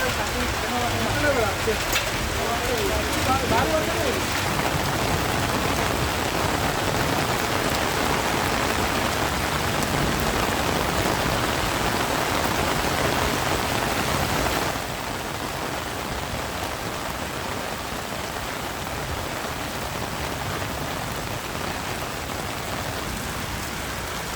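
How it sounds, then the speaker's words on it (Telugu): Heavy rain in Hyderabad pours steadily in a dense, continuous roar that barely lets up, the downpour easing slightly partway through but remaining loud throughout. "హైదరాబాద్ లో భారీ వర్షం కురుస్తోంది"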